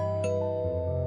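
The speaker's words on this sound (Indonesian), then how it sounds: "Ada bel, biar saya aja yang buka ya, Bu." A doorbell rings indoors in a home, a short chime with a bright onset followed by a sustained tonal ring that fades out, with no voices.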